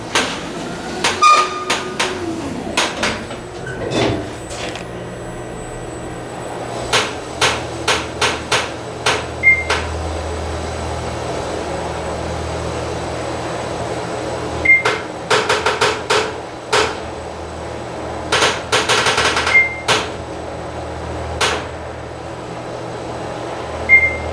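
A Schindler 5500 traction elevator car opens with short squeaks and a rumbling door slide, followed by clustered knocks and clatters against a steady mechanical hum.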